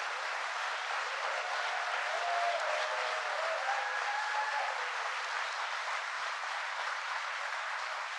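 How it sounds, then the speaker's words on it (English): An audience at an IBM site applauds the workers in a continuous, even roar of clapping that holds at one level throughout, with a faint whistle-like tone drifting through the middle. "So if you would all give a round of applause to all of the people who work at the site."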